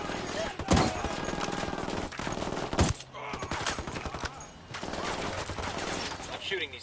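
Dense gunfire from a Ghost Recon battle, sharp shot bursts and loud cracks rattling over a constant noisy backdrop, with voices talking through the firefight.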